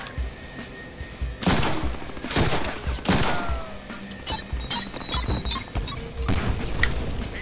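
Gunfire from the Deadpool video game, with pistol and machine gun shots, comes in sharp loud bursts and volleys among crashes and impacts over several seconds.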